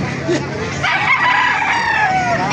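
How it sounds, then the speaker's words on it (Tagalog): An eight-month-old Peruvian rooster crows once, loud and close, in a long drawn-out call lasting about two seconds with a rough, strained tone. "Laking manok nito."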